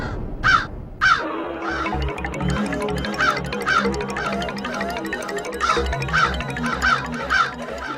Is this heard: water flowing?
no